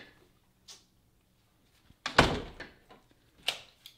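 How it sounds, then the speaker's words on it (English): A door shuts with a firm thud, followed by a few softer knocks and rattles in an otherwise quiet indoor room. "Hold on, let me close the door."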